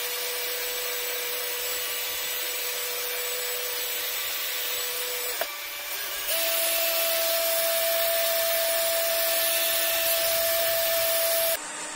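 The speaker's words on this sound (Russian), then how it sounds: "Теперь включаем фен на первую скорость." A steady electric whine of a hair dryer running on low, with a brief dip midway before it resumes slightly louder and higher-pitched.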